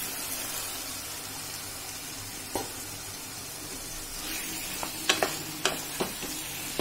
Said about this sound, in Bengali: মশলা কমিয়ে দিয়ে আমি সোয়াবিনগুলো দিয়ে দেবো